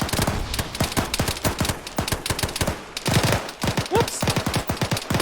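Dense automatic gunfire in the military video game ArmA 3, rapid close bursts of shots firing almost continuously with brief pauses, and a short spoken exclamation partway through.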